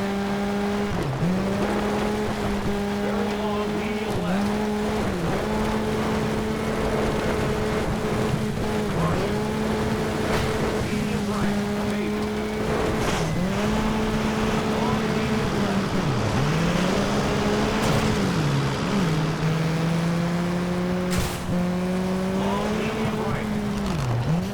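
Peugeot 206 rally car engine in Sega Rally Revo, a steady loud drone that rises and dips with repeated gear changes and handbrake slides, with tyre noise over the whole run and talk over it.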